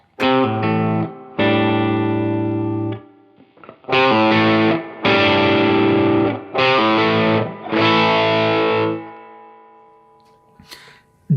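Electric guitar with humbuckers played through a Tube Screamer overdrive pedal into a clean Fender amp, a series of gritty sustained chords ringing out one after another with a brief pause between some, no talking.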